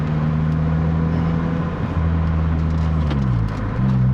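A 2007 Lotus Exige S on the road, its engine holding a steady loud drone from inside the cabin, then the pitch drops and shifts as the driver changes gear.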